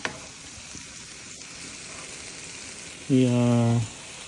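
Ground beef frying in its own fat sizzles with a steady low crackle in a pan, while a loud harmonic tone sounds briefly near the end.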